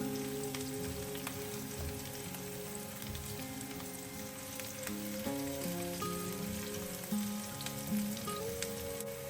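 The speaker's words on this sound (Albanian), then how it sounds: "do vazhdojmë ta skuqim qepën për disa minuta derisa të fillojë të zbutet paksa" Onion frying in oil in a pan, a steady close sizzle and crackle lasting throughout, with faint stirring scrapes and a hum in the background.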